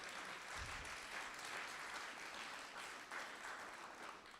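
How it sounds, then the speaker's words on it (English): People at a church vestry's annual financial meeting clap for an outgoing committee chair, a faint, steady round of applause from a modest group heard from some distance, with a brief low thump near the start. "We can clap, yes."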